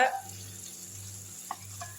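Faint, steady sizzle of ghee from cow's-milk cream cooking in a pan, with a couple of soft scraping clicks from stirring near the end.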